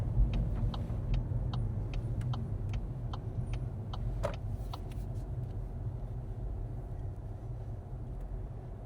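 A car rolls in slowly and parks on the left during a driving test, its engine holding a steady low drone close by with faint clicks over it and no talk.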